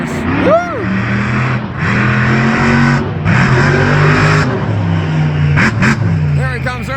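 Monster truck engines roar and rev at Elko Speedway, a loud, sustained growl rising and falling in pitch with bursts of acceleration, while a voice calls out over the noise.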